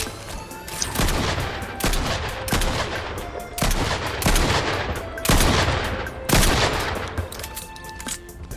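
Video game gunfire in rapid bursts, loud repeated shots and automatic fire clustered into several volleys with brief gaps, heard alone without talk.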